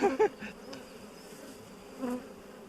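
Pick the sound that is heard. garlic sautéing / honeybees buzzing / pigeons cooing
honeybees buzzing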